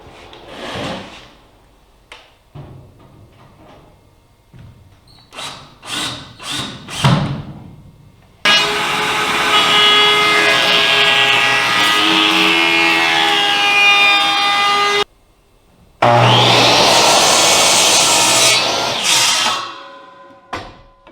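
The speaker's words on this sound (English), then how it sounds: "And putting the screws in all the way around." Power screwdriver driving screws into oak trim around a table top in a workshop, with two long sustained whirring runs of several seconds each, close and loud, broken by a short pause and preceded by lighter handling knocks.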